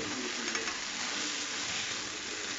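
An ostrich fillet sizzling in a frying pan, a steady close hiss of frying that holds at an even level throughout, with no talking.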